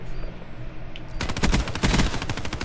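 Rapid automatic gunfire in Black Ops 3 Search and Destroy, a sudden loud burst of close machine-gun shots rattling in quick succession after a quieter moment.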